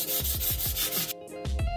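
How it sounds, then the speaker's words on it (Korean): Sandpaper lightly rubbing over a resin art piece in quick, even back-and-forth strokes, close up and steady, with no voices. "사포로 살짝만 문질러줄게요."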